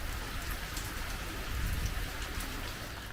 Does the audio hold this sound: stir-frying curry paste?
no